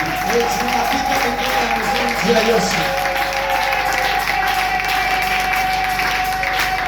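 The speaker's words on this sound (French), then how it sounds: "Est-ce que tu peux bien acclamer pour Jésus?" A church congregation applauding and cheering for Jesus, steady clapping with a voice and sustained tones over it throughout.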